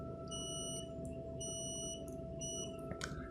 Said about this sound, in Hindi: यहाँ पे हमारा मल्टीमीटर आ चुका है, जो कि सेट है कॉन्टिन्यूटी मोड पे।